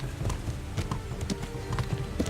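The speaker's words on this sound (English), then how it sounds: "When riding, you can give your horse its head and it will stick to the path you're on" Horse hooves clip-clop in a quick, steady rhythm as a rider travels a countryside path in the video game Kingdom Come: Deliverance, close and clear under a faint backdrop.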